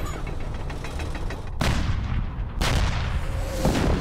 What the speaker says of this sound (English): Under heavy fire, Wittmann quickly retreated.